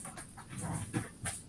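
A dog pants in quick breathy bursts, with a faint whimper mixed in, fairly close and fairly quiet, with no talking over it.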